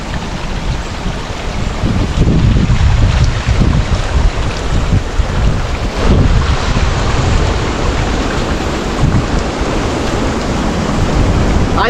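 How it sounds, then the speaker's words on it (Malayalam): Strong wind blows hard over the microphone near water at a hilly, abandoned tea estate. It makes a loud, continuous rumble and buffet that swells in gusts, and no voices are heard. "നല്ല കാറ്റ് പറഞ്ഞ കേൾക്കണ്ടോ എന്ന് എനിക്കറിയില്ല നല്ല കാറ്റുണ്ട്"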